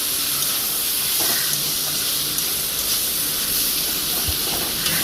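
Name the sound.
banana flower frying and being stirred in a pan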